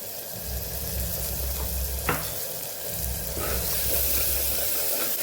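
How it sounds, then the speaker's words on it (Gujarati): Spice masala and tomatoes sizzle and crackle in a hot pan for a Kathiyawadi vegetable dish, a steady close frying hiss broken by a few spoon stirs and scrapes. "મસાલાને ટમેટા સાથે એકદમ મસ્ત એવું સાતડી લેવાનું છે, ત્યાં ટમેટા પણ સરસ પાકી જશે।"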